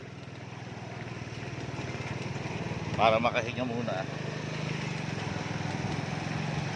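A motorcycle engine runs steadily in floodwater with a low, continuous drone, while someone speaks briefly over it partway through.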